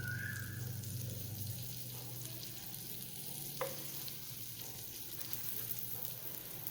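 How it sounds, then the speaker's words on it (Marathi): Bread frying in butter in a pan as both sides toast, a soft steady sizzle that runs quietly throughout, with a brief scrape or clink partway through and no talking. "पुन्हा थोडंसं वरून बटर लावायचं आणि पुन्हा भाजून घ्यायचे दोन्ही बाजूनी छान खमंग आपले ब्रेड भाजले गेले पाहिजे"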